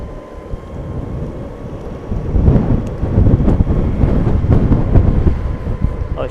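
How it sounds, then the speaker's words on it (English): Strong wind buffets a microphone outdoors while the rider wobbles along on an electric board, a steady rumbling roar that grows louder partway through. "it's so windy now"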